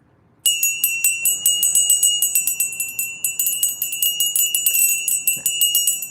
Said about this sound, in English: Okay, I'm going to do the bell.